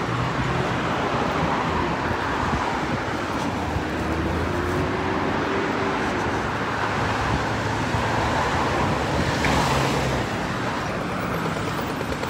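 Steady street traffic rolls past on a busy road in Brisbane's Newstead, with a dense mix of electric and fuel cars. The engine and tyre roar is loud and continuous, with passing vehicles swelling and fading and no voices.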